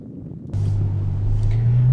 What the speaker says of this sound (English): let's drive it and see what a completely nuts to bolts new Ferrari and new Ferrari front-mounted V12 actually feels like